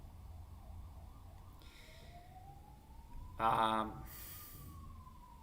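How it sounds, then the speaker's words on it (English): A siren wails faintly in the background, its tone rising and sliding over a few seconds, while someone speaks briefly during a live stream. "sorry about that, siren."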